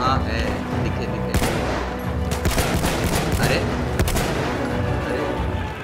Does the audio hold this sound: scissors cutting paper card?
no